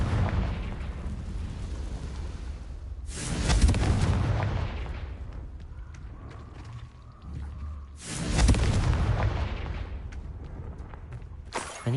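Confringo fire spell blasting in Hogwarts Legacy, two loud booming bursts a few seconds apart, each swelling into a heavy rumbling roar over a steady ambient bed of game sound.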